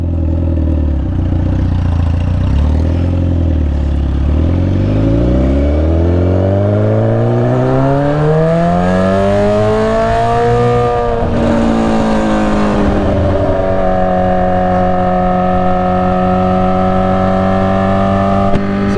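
A sportbike motorcycle engine revs as gas is given while riding with a passenger, the pitch dipping, then climbing steadily and loudly before settling into a high, strained hum, close to the rider.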